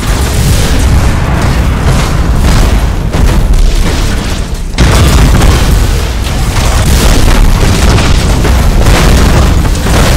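A spaceship explodes in a Battlefleet Gothic Armada 2 space battle. The blast is a loud, continuous booming roar that fills the whole stretch and surges again midway, with no speech over it.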